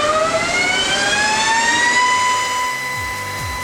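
A test station running a Roush Performance supercharger rotating group through a clearance test, giving a loud whine that climbs steadily in pitch over a rumbling base, then eases slightly near the end.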